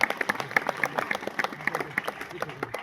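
At a Shiv Jayanti celebration lecture, an audience claps in a scattered, uneven patter of individual hand claps, moderately close and fairly quiet, with a faint voice murmuring underneath.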